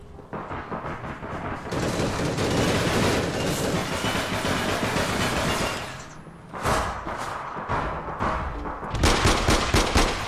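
Sniper rifle fire and other gunfire in the online shooter APB Reloaded, a dense, loud stretch of sharp shots and crackling bursts that drops off briefly near the middle before resuming.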